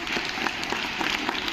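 A crowd of students claps for a police officer at a school talk in Lanji, producing dense, continuous applause that stays loud and even for the whole short stretch.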